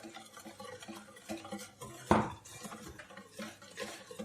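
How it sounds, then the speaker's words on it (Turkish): Milk and melted butter gently stirred into a whisked egg and sugar batter for an apple pie, soft rhythmic scraping and swishing in a bowl with one sharp clink of utensil against the rim. "yarım stakan sütümüzü duru yağı da əlavə edib xəfifcə qarışdırırıq"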